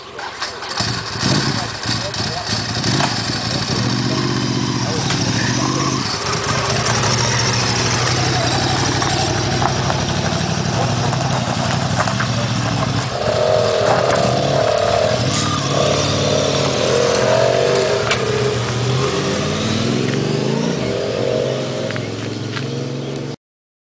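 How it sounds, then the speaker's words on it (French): A Ducati motorcycle engine starts up close and loud, then idles and revs for about twenty seconds, with people talking over it. "Nono vient de nous quitter avec la moto là, la le Ducati, Ducat, il vient de voilà. la mettre en route"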